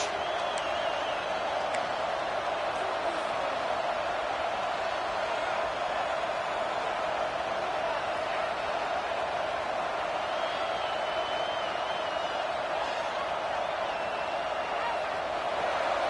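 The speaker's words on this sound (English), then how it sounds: "Listen to the crowd energy here in the early going." Steady roar of a crowd filling a football stadium early in a game, a dense continuous wash of cheering with no breaks or peaks.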